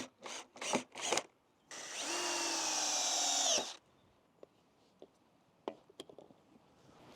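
A power drill bores a pilot hole for screws while a hinged hoop house for raised beds is built: a steady, whining spin of about two seconds, preceded by short bursts and followed by scattered clicks and knocks.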